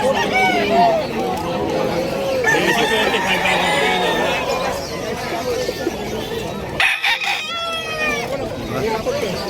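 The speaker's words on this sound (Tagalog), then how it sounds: "sa ating mga manok" Chickens and roosters at a busy pet market in Bulacan, with several crows and clucks rising over a steady crowd babble, voices chatting throughout near and far.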